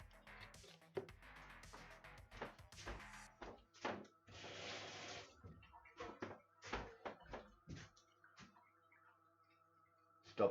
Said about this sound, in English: now we start chopping the onions